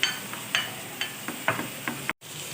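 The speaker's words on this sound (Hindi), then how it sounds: "जब तक हमारी ये इस साइड पे फ्राई हो रही हैं" Cheesy chicken sticks fry in a pan with a steady soft sizzle, broken by a few light scrapes or stirs, close by with no talk, then a brief drop to silence.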